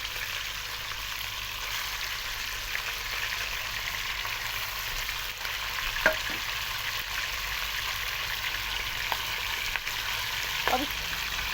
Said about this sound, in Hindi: अब इस चिकन को हमने अच्छे तरीके से फ्राई कर लेना है।